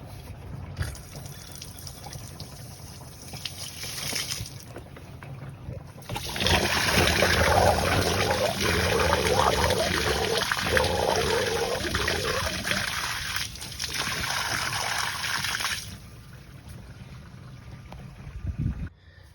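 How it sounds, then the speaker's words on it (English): Fresh water draining out of a camper's tank through an opened bottom valve, a steady close rushing splash that swells loud for about ten seconds, with softer trickling before and after, no talking. "let's pop this valve at the bottom of the camper and let some of this new fresh water drain out"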